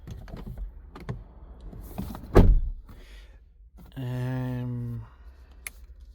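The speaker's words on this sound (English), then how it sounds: "I've got to close the door properly" A Hyundai i30 N-Line car door is shut with a single solid thunk, preceded by light clicks and handling noises and followed by a short electric whirr.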